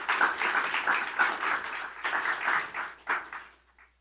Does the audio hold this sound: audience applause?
yes